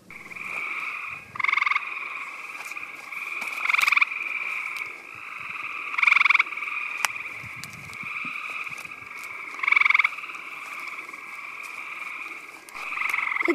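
Frogs croak at night by a farmer's pond, a steady chorus of calls with louder trilling bursts recurring every few seconds close by.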